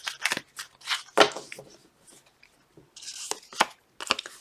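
Tarot cards shuffled by hand in short crisp bursts of riffling and snapping, separated by brief pauses, fairly close and clear with no talking.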